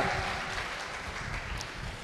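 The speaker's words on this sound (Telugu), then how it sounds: "గట్టిగా చప్పట్లు కొట్టి గట్టిగా దేవుని మహిమ పొందుతూ గట్టి కొట్టండి" A church congregation claps loudly and steadily in a dense, continuous wash of applause with no voices.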